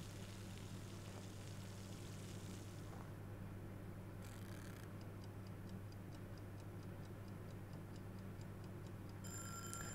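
A cooking timer in the game Adios ticks in a fast, even rhythm over a steady low hum, starting around the middle and continuing to the end, faint and alone.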